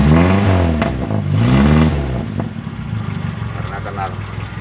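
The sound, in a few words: motorcycle engine restarted and revved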